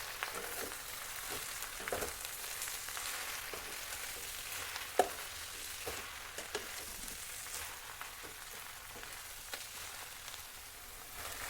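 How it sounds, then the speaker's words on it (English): Gongura leaves fry in a pan with a steady, soft sizzle while being slowly stirred, with occasional light scrapes and taps of spoons against the pan; quiet and continuous, close by, with no voices. "Add the gongura leaves and mix it well."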